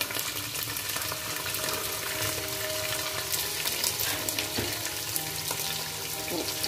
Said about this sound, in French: je vais tout d'abord blanchir mes oignons